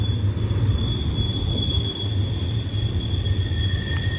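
A westbound BNSF freight train with mid-train DPU locomotives rolls through Sullivan's Curve, a steady low rumble of wagons beneath a thin, continuous high wheel squeal, close and even throughout, without speech.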